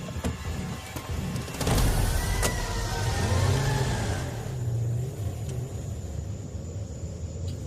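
A car engine starts and revs as a family drives off on a highway, a loud rumbling surge that settles into a steady hum, with no talking.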